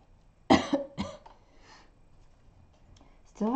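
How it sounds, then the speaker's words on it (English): Two sharp, close coughs in quick succession from a person sick with a lingering bug, in a quiet room, before a voice starts speaking. "Still have that weird cough from like a couple weeks ago."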